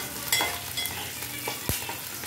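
Chana dal, curry leaves and tempering spices fry in a pan for rava upma while a spoon stirs them, a steady close sizzle broken by a few sharp scraping strokes, with no voices.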